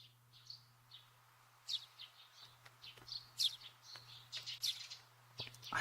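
Small birds in a springtime scene of the Korean visual novel Haru no Oto chirp in quick, faint bursts of high tweets over a soft, steady background hum.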